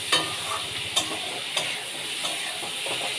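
Long beans sizzle in a frying pan while a spatula stirs them, scraping in several distinct strokes over a steady close frying hiss, with no talk.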